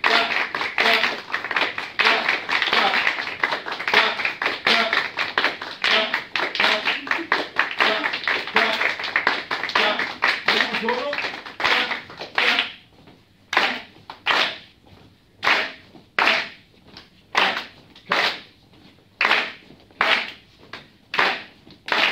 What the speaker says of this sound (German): Klatsch mal die Achtel